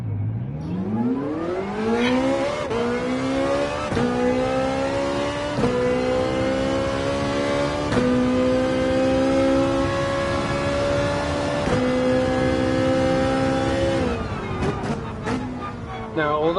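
Ferrari GR4 race car engine in a racing video game revs steadily and loudly, its pitch climbing then holding at a high sustained whine for most of the time, with brief gear-change dips before easing off near the end.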